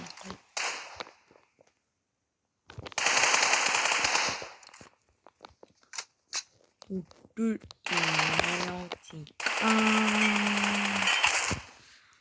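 Rapid automatic gunfire from a first-person shooter, in several loud bursts separated by pauses, with short tonal hit chimes marking headshots and a voice talking over parts of it.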